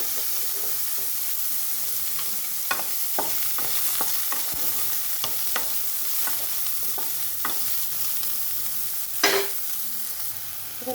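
Eggplant pieces sizzle in mustard oil in a wok, a steady close frying hiss broken by scattered clicks and scrapes of stirring, with a louder spatter near the end; no one speaks.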